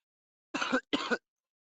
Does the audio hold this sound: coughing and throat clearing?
yes